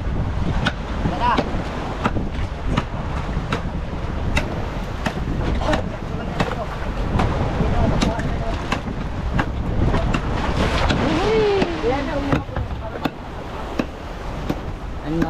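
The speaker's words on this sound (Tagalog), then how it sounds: "At medyo pabugso-bugsong hangin" Gusty wind buffets the microphone over the sea off Mindanao, with rushing air and water noise from a moving boat, the roar swelling and easing steadily throughout.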